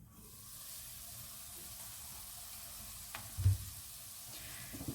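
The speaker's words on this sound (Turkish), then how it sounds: "Bu şekilde kapağını kapatacağız. 1-2 dakika köftemiz kavrulacak." Meatballs fry in a covered pan as the first step of a pea and meatball stew, giving a steady close sizzle with a single brief clank near the end.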